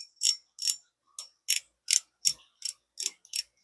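An Okuma Avenger 3000 spinning reel's drag ticking in sharp, light clicks, about nine evenly spaced bursts, close up and fairly quiet with no talking.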